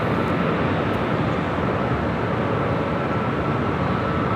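An airliner arriving at LAX on a flight from Taipei, a loud, steady broadband jet roar that holds evenly throughout without breaks.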